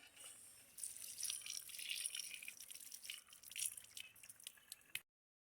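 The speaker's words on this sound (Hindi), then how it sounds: "देखो ऐसे चलाओ, आ गया पानी।" Water flows from a hand pump beside a crop field, splashing and gurgling in a steady, fairly faint stream that surges slightly before cutting off abruptly near the end, with no talking.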